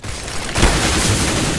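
A grenade goes off in a competitive first-person shooter match, a sudden loud, close boom that cuts in partway through and leaves a broad rumbling blast tail.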